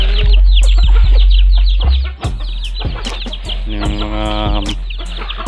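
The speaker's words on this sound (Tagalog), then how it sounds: "Manok natin." Backyard chickens cluck steadily and close by, with overlapping calls, short sharp notes and a drawn-out crow-like cry near the end; no talking.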